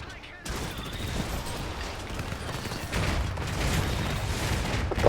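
Mortar fire in the Iron Harvest strategy game: a continuous, dense rumble of blasts and battle noise that swells midway and stays heavy throughout, with no voices.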